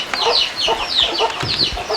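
Several chickens cluck in quick, repeated bursts, close by and fairly loud, with a steady rhythm of short calls overlapping each other and no talking.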